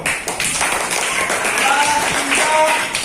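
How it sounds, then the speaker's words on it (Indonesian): A classroom of students claps together in a steady, dense patter of applause, loud and close, with faint voices mixed in. "Tepuk tangan dulu."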